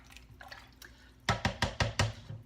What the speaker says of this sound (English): Give it a nice stir.